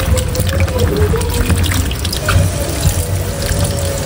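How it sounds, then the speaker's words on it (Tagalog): Taro leaves are washed in water, with a steady close splashing and running-water wash as the leaves are swished and rinsed. "ito pong dahon ng gabi, akin na pong huhugasan"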